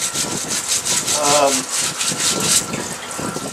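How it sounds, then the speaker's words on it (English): A plastic brush scrubs old motorcycle rim parts in a parts washer, giving steady back-and-forth wet scrubbing strokes close up, with a brief voice in the background. "I'll generally use a plastic brush, and I'll just stick my parts washer up here and just start scrubbing."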